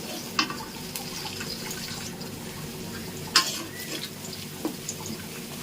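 Onions sizzle gently in a pan while a utensil stirs, with a few scattered scrapes and clicks over the steady hiss.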